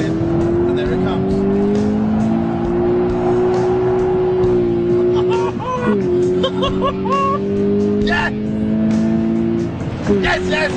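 A 2012 Toyota GT86 sports car engine revs high and steady while cornering hard, dipping as it shifts and climbs again, with tire squeal and a voice talking over it.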